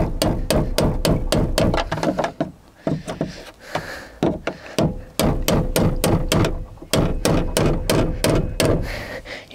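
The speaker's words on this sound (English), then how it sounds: "You shouldn't have to put many smacks of a hammer on this" Rapid, repeated metallic hammer taps on a fuel pump locking ring of a Citroen Saxo or Peugeot 106, in quick bursts, sharp and close, with short pauses between runs of strikes.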